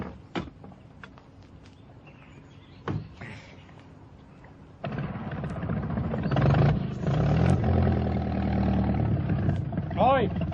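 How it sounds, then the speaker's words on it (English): A vehicle engine idles with a steady low rumble and harmonic drone that grows louder partway through, while people talk over it and brief knocks and clatter break in. "Stop your engine."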